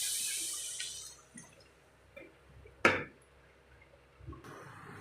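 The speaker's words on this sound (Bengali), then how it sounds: "জল দিয়ে দেবো।" Water is poured into a pan of cooked-down masala for a curry, giving a brief splashing burst near the middle among quieter clinks and drips, with a brighter hiss at the start.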